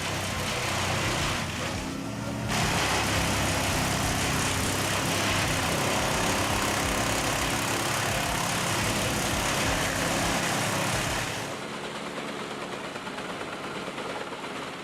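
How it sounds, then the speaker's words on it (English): A wood chipper machine chews through Australian timber with a loud, steady mechanical roar that runs almost continuously, then drops slightly in intensity near the end. "This machine greedily pulls in Australian timber and turns it into chips as if it were a simple toothpick."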